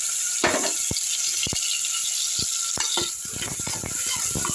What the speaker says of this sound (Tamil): எண்ணெய் காஞ்சிச்சிங்க. வெங்காயத்தை போட்டுருவோம்.